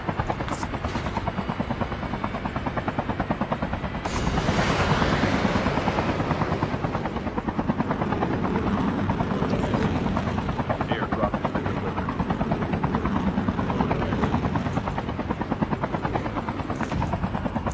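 An aircraft in Call of Duty Mobile drones with a constant buzzing propeller hum that swells briefly, while players talk over it.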